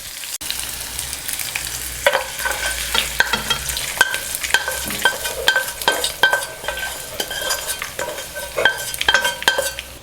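Curd rice being stirred with a freshly fried tempering, steady close scraping and mixing strokes with faint sizzle and a few sharp utensil clinks throughout.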